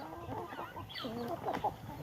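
Several chickens clucking and murmuring close by in a chicken coop, overlapping short calls in a brief busy burst.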